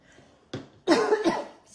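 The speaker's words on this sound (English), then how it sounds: "Still not perfect with my cough" Two close, raspy coughs from a woman at a crafting table, the second burst longer and harsher, with a short breathy sound trailing after.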